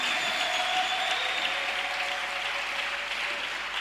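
Congregation at a French-language church service applauding continuously, a steady dense wash of clapping with no words over it.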